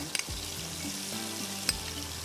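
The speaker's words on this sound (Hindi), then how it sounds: "यहाँ पर हम इसमें मक्खन डाल देते हैं ताकि मक्खन का एक अच्छा मज़ेदार सा फ्लेवर आ जाए" Butter sizzles steadily in a frying pan for a desi mixed vegetable dish, a soft continuous crackle with a couple of sharp clinks from a utensil, close and fairly quiet.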